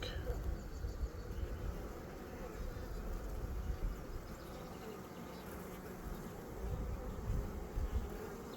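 Dense, steady drone of many honey bees buzzing close up during a hive inspection, a continuous loud hum with no pauses and no talking over it.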